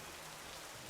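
A rain ability effect in the video game Smite pours over a lane as a dense, steady hiss of falling drops, continuous and even with no voices.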